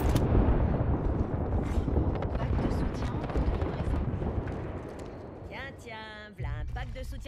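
Frag grenade and artillery blasts in a combat video game, a dense, loud run of booms and gunfire rumbling continuously, with a voice speaking over it and a sharp shift near the end.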